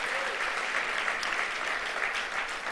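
A church congregation applauds in a steady, dense wash of clapping that holds evenly for a few seconds, with no voices rising above it.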